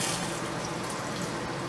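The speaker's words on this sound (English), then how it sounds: "you'll let that fill up, get a little water, and then you'll flush it down into the black tank" Water runs steadily into the bowl of a standard foot-flush toilet in an RV bathroom, a continuous close hiss and trickle with no pauses.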